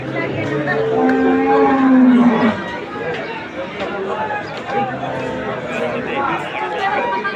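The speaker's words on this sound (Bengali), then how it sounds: "সুবিশাল গরু বাবারে বাবা" A very large cow at a busy cattle market gives a low, drawn-out moo near the start, set against the chatter of a crowd and someone talking throughout.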